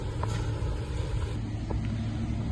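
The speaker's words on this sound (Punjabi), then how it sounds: "ਆ ਲੋ ਉਹ ਚੱਲਦਾ ਟਰੈਕਟਰ" A farm tractor runs steadily in an Italian field during hay baling, a continuous low engine drone at moderate distance with no talking.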